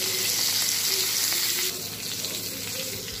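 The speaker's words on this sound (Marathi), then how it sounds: "तर पापलेट आता दुसऱ्या बाजूने सुद्धा फ्राय झालेला आहे।" Pomfret fish frying in a pan, with a steady, loud hiss of sizzling oil running throughout and a slight drop in intensity partway through.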